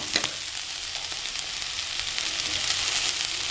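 Beans sizzle steadily while sautéing in a pan for aval kichidi, a flattened-rice dish, with a soft continuous frying hiss and occasional stirring clicks close by, no voices.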